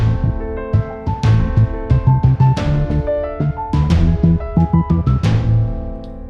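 A fast-paced music track at 180 BPM plays back in Logic Pro X, loud and dense with punchy rapid plucked notes, bass and percussive hits driving a quick rhythm.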